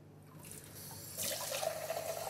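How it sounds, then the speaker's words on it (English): Tap water runs into a cup at a sink, a soft trickle that swells into a steadier, louder pour partway through, with quiet room tone and no talk. "We remove any rings and fill a cup with water."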